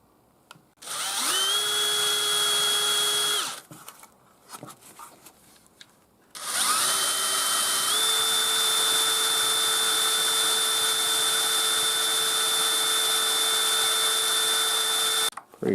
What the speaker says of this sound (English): I take a drill and I drill a hole right underneath here